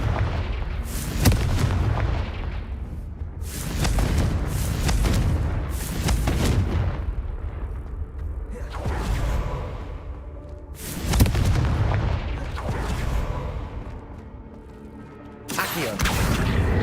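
In the Hogwarts Legacy video game, the Confringo blasting spell sets off repeated booming explosions. Heavy blasts erupt roughly every two to three seconds, loud and close, each decaying into a rumbling tail before the next hit.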